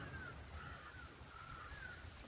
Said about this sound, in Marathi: कावळा बोलायला लागला म्हणजे